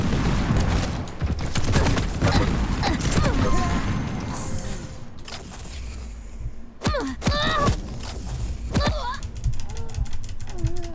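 Bursts of machine gun fire in the arena shooter Quake Champions, rapid mechanical rattling volleys mixed with other game effects and weapon clatter throughout, with voice chatter in the match.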